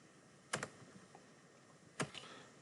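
A computer keyboard tapped in two brief bursts, a couple of quick keystrokes followed by another pair over a second later, quiet and close against a faint room hush.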